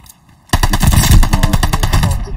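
A loud, close burst of rapid automatic gunfire in Call of Duty Vanguard breaks a near silence and carries on for about two seconds.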